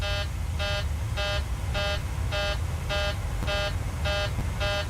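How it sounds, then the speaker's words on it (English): Cockpit alarm of a Boeing 737-700 in Microsoft Flight Simulator 2020: a loud electronic tone beeping in steady repeated pulses, about nine evenly spaced bursts, over a constant low engine rumble with no talking. "Yeah, I'm really not sure why we're getting that alarm."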